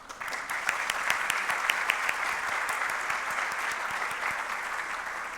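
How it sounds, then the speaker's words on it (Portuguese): An audience at a council inauguration ceremony breaks into steady applause welcoming the new U.S. ambassador to Brazil, a dense, even wash of clapping that holds at moderate loudness throughout. "Vamos bater palmas para ela."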